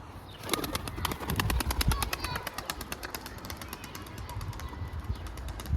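A pigeon bursts into flight with rapid, rhythmic wing claps close by, the flapping quick and regular before easing slightly toward the end.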